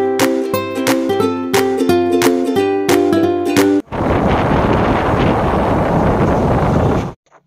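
Steady wind and engine rush aboard a launch boat near Bhubaneswar, preceded by a few seconds of tonal music with sharp rhythmic hits, then a continuous loud broadband roar of wind on the microphone until an abrupt cut.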